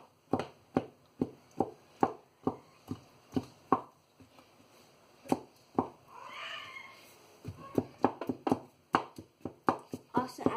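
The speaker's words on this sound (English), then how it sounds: "Smash the beans since it's now cooked." Cooked fava beans being mashed for ful medames, heard as a run of sharp, rhythmic thuds close by that pauses midway under a brief high voice, then resumes.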